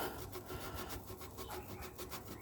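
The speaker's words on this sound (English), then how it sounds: "just scuff it up so you get a good" A surface being scuffed rough by hand near a freshly drilled hole during a trailer auto-wash sprayer install. Quiet, rhythmic back-and-forth rubbing strokes repeat steadily throughout, with no voices.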